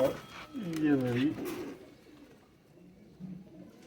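Pigeons cooing in a home loft, a few soft rolling coos close by in the first second and a half, then fainter murmurs under low background noise.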